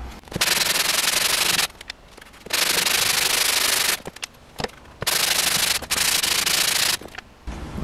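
Harsh, loud rasping of sandpaper on a wooden guitar fingerboard in long strokes, broken by short pauses, close and rhythmic.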